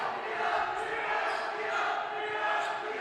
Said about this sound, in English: You can hear the Challenger student section cheering on the defense.